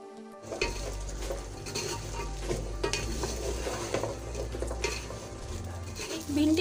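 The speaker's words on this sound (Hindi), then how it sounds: "भिंडी शामिल कर देंगे। भिंडी को भूनेंगे।" Okra stir-fried in a pan, with a steady close sizzle and repeated scraping and clinking of a spoon against the pan throughout, no voices over it.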